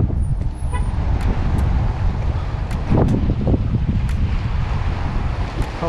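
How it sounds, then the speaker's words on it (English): Strong wind roars across the microphone during a fishing outing, a loud, steady rushing blast with gusty surges and no talking. "Man, a lot of windy today."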